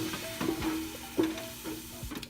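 A flour and water paste cooks in a pan after onion sautéed in butter or oil, with a low steady sizzle and several soft scrapes and stirs of a utensil, fairly close and alone.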